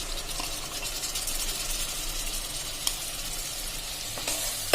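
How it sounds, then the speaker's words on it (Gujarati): Thick yogurt stirred into a hot pan of green chilli curry, giving a steady close sizzle with soft scraping strokes of the spoon, fairly even throughout with a couple of brief sharper clicks. "હવે આ દહીં આપણે જે 1 કપ એકદમ જાડું દહીં લીધું છે એ નાખી દેશું"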